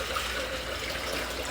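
Water drains out of an Emery Thompson CB-350 ice cream machine, giving a steady trickling and gushing flow at moderate level throughout, with no talking.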